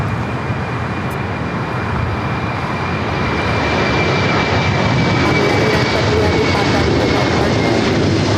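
A Boeing 747-400 freighter takes off at LAX, its jet engines a loud, sustained broadband roar that holds steady throughout with no break.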